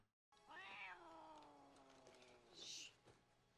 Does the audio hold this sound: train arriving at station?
no